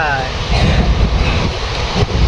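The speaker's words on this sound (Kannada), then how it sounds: "ಟ್ರೈನ್ ಮಾತ್ರ ಸಿಕ್ಕಾಪಟ್ಟೆ ಸ್ಪೀಡ್ ಹೋಗ್ತೈತೆ" A fast-moving train heard from inside, a loud continuous rumble mixed with wind buffeting against the microphone.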